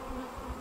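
Honey bees hum in a dense, steady buzz at an open hive with a top box of honey, close and continuous through a brief moment.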